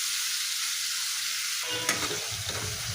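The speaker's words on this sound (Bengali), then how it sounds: "টমেটোটা আমার ভাজা হয়ে গেছে" Chopped tomato and spices fry and get stirred in a pan for a potato and poached-egg curry. The sizzle is quiet at first, then a scrape with a stronger crackling burst past the midpoint, with no talking.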